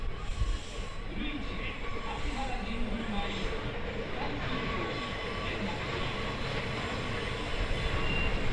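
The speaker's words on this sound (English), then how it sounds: "The train entered the station after rounding a sharp curve." Keihan suburban semi-express train rolling into a station after rounding a sharp curve, a steady rumble of wheels on rail with faint squeal, moderately distant and continuous throughout.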